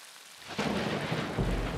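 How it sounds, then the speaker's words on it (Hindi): Cartoon thunderstorm: silence breaks into a loud rumble of thunder over heavy, steady rain hitting surfaces, with a second swell of thunder toward the end and no voices. "ये एक तूफानी दिन था"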